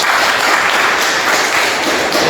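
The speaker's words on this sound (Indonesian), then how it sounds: "Beri tepuk tangan." A university class bursts into steady, dense applause, many hands clapping close and loud without pause for a couple of seconds, with no speech over it.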